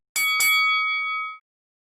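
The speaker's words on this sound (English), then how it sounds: "and a boxing match bell." A boxing ring bell struck twice in quick succession, bright metallic dings that ring on and fade out.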